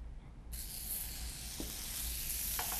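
Butter melts in a pan over low heat with a sudden, steady broadband sizzle that holds throughout, plus a couple of faint clinks.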